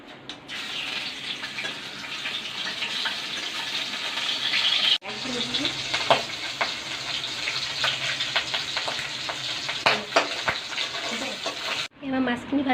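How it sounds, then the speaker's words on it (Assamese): Fish fries in hot mustard oil in a pan with a steady hiss and sizzle, broken by sharp spits and crackles as pieces are added and moved, close and fairly loud. "এয়া মই মিঠাতেল দিছোঁ মাছখিনি ফ্ৰাই কৰি ল'ম ইয়াতে"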